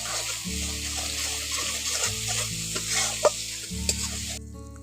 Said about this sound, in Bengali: এখন ভালো করে মশলাগুলো দিয়ে আবার কষে নিচ্ছি